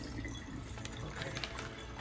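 Water draining for acclimating anemones in a 10-gallon nano reef aquarium setup, a soft continuous trickle and gush of flowing water, faint and close, no talk.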